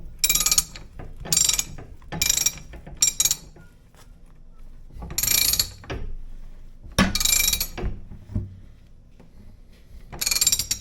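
A wrench ratchets in several quick bursts while tightening a hydraulic cylinder on an old Ford tractor, close and loud, with short pauses between each run of clicks.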